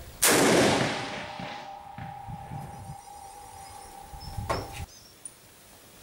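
A single loud rifle shot from a muzzle-braked rifle cracks at close range, then a long ringing tail and echo decay, with a faint clank near the end.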